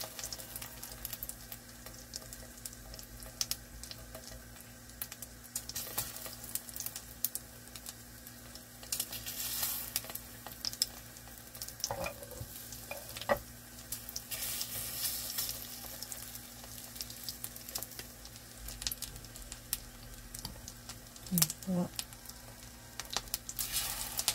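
Korean assorted pancakes (jeon) fry in an oiled pan with a continuous, even sizzle and light crackle, heard alone and close throughout, with occasional faint spatters and clinks.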